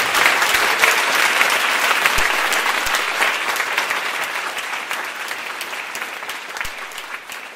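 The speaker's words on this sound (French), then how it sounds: "avec un tonnerre d'applaudissements" Thunderous audience applause at a recorded French podcast talk on Ukrainians and Russians in the war: dense, sustained clapping from a large crowd, steady and loud throughout, easing slightly toward the end, with no voices over it.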